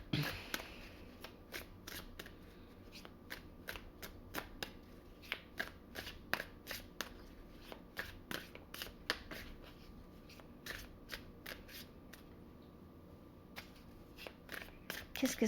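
Oracle cards being shuffled by hand, a steady run of soft, close riffling snaps and flicks repeating at a regular pace over a quiet background.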